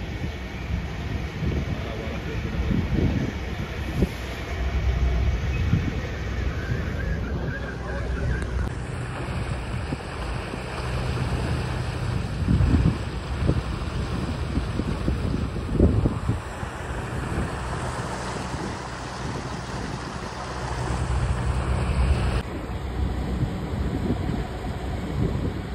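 A ferry crosses the sea from Mumbai to Uran, its engine drone and water rush blended with heavy wind buffeting on the microphone, steady throughout with faint voices in the background.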